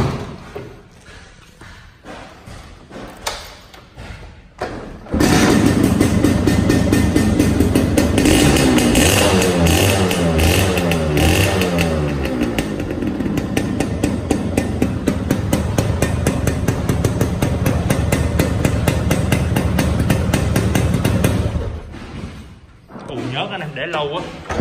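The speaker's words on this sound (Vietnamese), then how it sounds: "Mình nổ máy chiếc xe chia thường này cho anh em nghe nha" A Suzuki Satria motorcycle engine catches after a few clicks and knocks, then runs loud and close at a rough, steady idle before shutting off.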